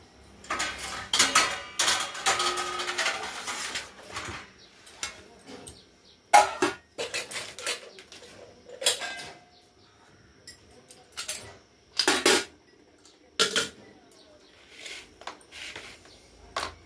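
Kitchen clatter while cut vegetables are set aside and covered: scattered clanks of metal pots, lids and utensils in irregular bursts, close and fairly loud, with quiet gaps between.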